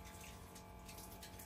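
A thin trickle of water runs from a small tap on a Brazilian cargo truck, a faint, steady, unbroken hiss that continues without pause for the whole stretch.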